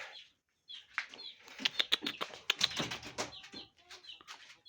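Chickens clucking and fluttering close by in a dark coop early in the morning, with short bursts of soft calls and wing movement after a brief quiet start.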